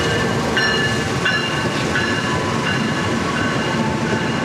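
The Gaya Baru Malam Selatan passenger train in Indonesia rumbles steadily past close by, a loud continuous roar with faint rhythmic clacks of wheels over rail joints.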